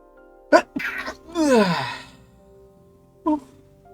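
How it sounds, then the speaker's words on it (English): A single close sneeze: a sharp catch of breath, then a loud, drawn-out burst that trails off, followed by a short noise a moment later. "You ever have those sneezes where it just..."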